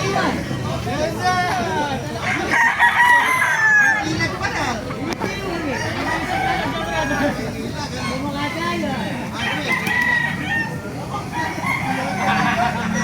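Gamefowl roosters of the sweater bloodline crow repeatedly at a market, their calls rising over constant crowd chatter and clucking, with nearby voices talking throughout.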